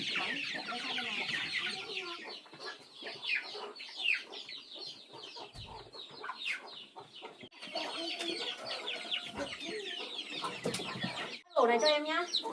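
Chickens cluck and chatter busily inside a coop around feeding time, a dense close chorus of hen calls with people speaking at times in between.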